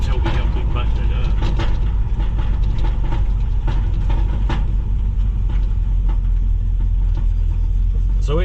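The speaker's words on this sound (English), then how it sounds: "So it's shifting through all the gears" Vehicle accelerating and shifting up through its gears, a constant loud engine and road rumble from inside the cab with a few rattles, while a person talks over it.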